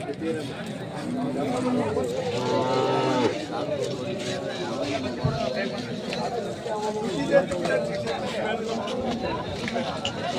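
Cattle mooing at the weekly K G Temple cattle market, several loud drawn-out moos rising over a busy crowd, with people talking nearby throughout.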